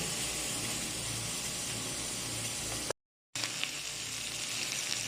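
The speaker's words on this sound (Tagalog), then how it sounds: "Ngayon naman, i-half fried natin itong chicken." Chicken half-frying in a pan of hot oil for afritada gives a steady, loud broadband sizzle that runs continuously, broken by a brief total dropout near the middle before resuming.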